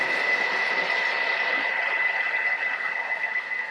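A Thermomix blending dough at speed 4, giving a steady whirring motor drone with a grinding, ratchety texture that runs evenly for several seconds, close and loud, with no voices.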